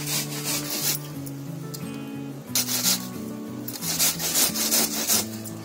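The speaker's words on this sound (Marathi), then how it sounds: "आता ते मी किसून घेते." A peeled apple rubbed against a grater, giving rhythmic, close rasping strokes in quick bursts over soft background music.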